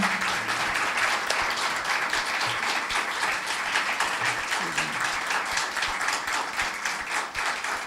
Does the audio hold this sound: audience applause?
yes